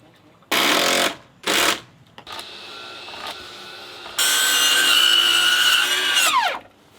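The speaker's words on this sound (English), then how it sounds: "we just brought the little Metabo 7 1/4 up here and using that to bust out this pressure blocking" A Metabo 7 1/4 inch circular saw cuts pressure blocking for a curved deck: two short bursts, then a longer cut whose whine drops away as the blade spins down, with a voice speaking between cuts.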